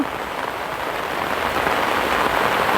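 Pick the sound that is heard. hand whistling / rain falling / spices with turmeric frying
rain falling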